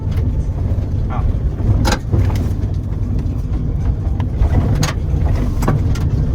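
A 2020 GMC Sierra AT4 pickup truck accelerating from about 60 km/h, its steady engine and road drone loud and continuous from a cabin perspective, with a few brief noise bursts along the way.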